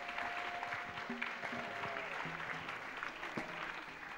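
Steady applause from a church evangelism crowd, continuous and fairly loud throughout, with some faint voices and murmurs mixed in.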